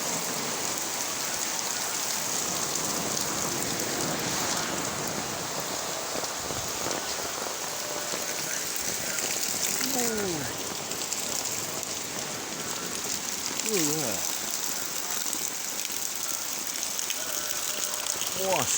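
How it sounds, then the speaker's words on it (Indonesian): Heavy rain pours down in Patia, Pandeglang, a dense, steady hiss of drops hitting surfaces, with faint bird-like chirps in between. "Hujan deras guys di daerah Patia."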